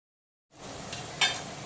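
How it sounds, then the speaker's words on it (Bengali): Onion paste frying in a pan with cumin, coriander and turmeric added, a soft steady sizzle that starts after a moment of silence, with a brief louder stir or scrape near the end. "পেঁয়াজের পেস্টটা যতক্ষণে হালকা বাদামি কালার করে ভাজা হচ্ছে, তার মাঝখানে আমি জিরে, ধনে আর তার সঙ্গে হলুদের"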